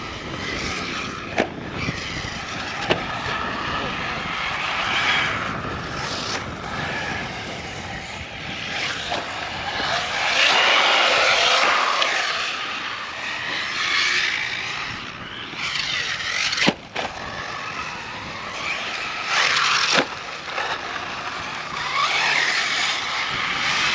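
A Typhon RC car runs rough on a track, its electric motor whining and surging in waves, close and loud, with sharp clacks and scrapes as it hits bumps and lands.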